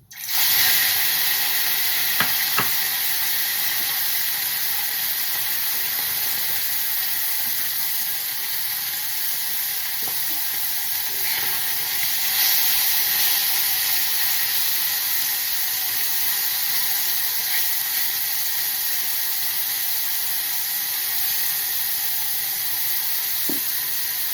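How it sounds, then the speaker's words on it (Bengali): Small kachki fish fry in mustard oil in a pan with a steady, dense sizzle and hiss. The sound stays loud and even throughout, with a few faint clicks and taps from the pan. "এবারে মাছগুলোকে আমি অল্প অল্প করে ভেজে নিচ্ছি।"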